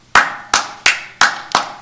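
Hand clapping from the gallery at a College Park city council meeting, five sharp claps at a steady, slightly quickening pace, loud and close, with no talk over them.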